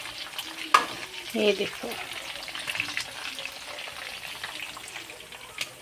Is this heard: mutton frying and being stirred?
yes